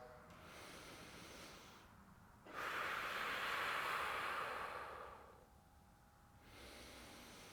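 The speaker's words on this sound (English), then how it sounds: "So 5 deep breaths." Slow, deep breaths taken while holding a lower-body stretch, each long airy inhale and exhale close and steady, with one especially full, loud breath in the middle.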